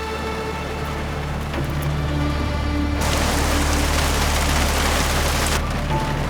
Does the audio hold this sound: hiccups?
no